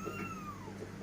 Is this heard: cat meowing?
yes